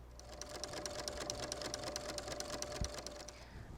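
A sewing machine runs steadily, stitching a quilt with a rapid, even mechanical patter at 12 stitches per inch, quiet and close, with a brief thump near the end.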